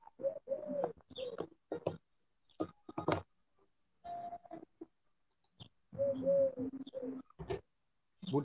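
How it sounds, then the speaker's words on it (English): Wood pigeon cooing in short repeated phrases, close and fairly clear, with gaps of quiet between calls. "wood pigeon, we've had the seagull."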